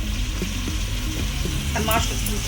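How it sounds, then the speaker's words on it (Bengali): Spice paste (masala) frying in a kadai with a little hot water added, a crackling sizzle with intermittent bubbling pops and a brief sharp spatter burst, close, under a low background hum. "মশলাটা ভাজা ভাজা হচ্ছে, এখন একটু একটু শুকিয়ে যাচ্ছে"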